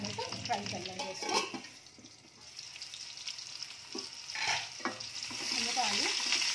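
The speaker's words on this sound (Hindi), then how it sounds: "मीडियम हीट ऑयल में हम इसको फ्राई कर लेंगे, थोड़ा सा लाइट कलर आने तक फ्राई कर लेंगे इसको" Potatoes frying in oil over medium heat, a close crackling sizzle that rises and falls with bursts of stirring and shuffling, with a voice talking over parts of it.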